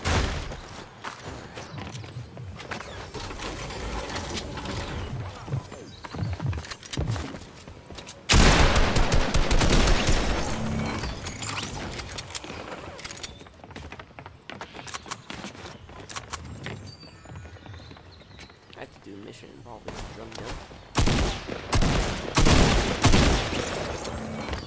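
Drum gun fire in Fortnite Chapter Two: a dense, sustained fusillade of rapid automatic shots that runs throughout, swelling louder in bursts, with other weapons and footsteps mixed in and no voices.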